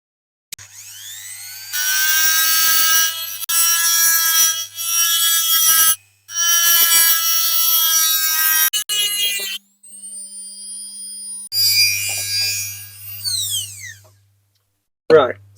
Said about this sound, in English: They need flattening off with the grinding wheel.